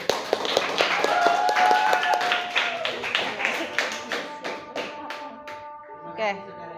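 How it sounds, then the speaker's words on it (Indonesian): Classroom applause from students, a brief patter of claps under ongoing chatter and voices, fading out after a few seconds. "Tepuk tangan."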